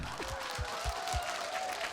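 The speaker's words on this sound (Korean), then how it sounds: "박수 한 번 주세요" A studio audience at a television singing class claps briefly, with soft low thumps and a sustained tone running over the clapping.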